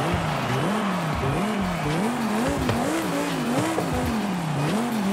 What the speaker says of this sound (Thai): จะได้ยินเสียงเทอร์โบนิดหน่อยนะ